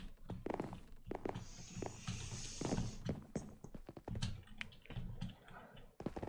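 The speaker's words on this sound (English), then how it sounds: "I can hear your keyboard." Rapid, irregular clicks of computer keyboard typing during a Minecraft multiplayer session, close and fairly steady throughout, mixed with game sounds.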